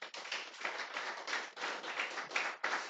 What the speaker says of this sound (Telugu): దేవుడు నీకు ఇచ్చిన భాగ్యాన్ని బట్టి ఒకసారి నువ్వే చప్పట్లు కొడతావా?